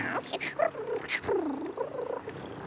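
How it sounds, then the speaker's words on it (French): A lost kitten in an abandoned castle in a cartoon makes soft, uneven mewing and purring sounds close by, mixed with brief voice-like vocal inflections. "Un petit chat? Qu'est-ce que tu viens faire là?"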